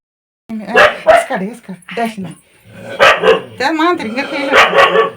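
A dog barks in short bursts with a few yips, close by, mixed in with people talking over it.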